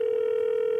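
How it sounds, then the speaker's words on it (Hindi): A telephone dial tone hums as a steady, unbroken electronic note, clear and close, with nothing else heard. "दूसरे कॉलर को फोन लगाते हैं"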